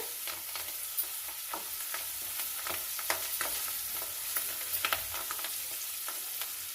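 Fenugreek and spinach leaves roasting in oil in a pan: a continuous sizzle broken by frequent scraping and clattering strokes of a spatula, irregular and fairly close, with no speech.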